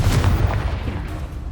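Confringo fire spell blast in the video game Hogwarts Legacy, a dense booming explosion with a heavy low rumble that starts loud and slowly decays over a second and a half, with no talking.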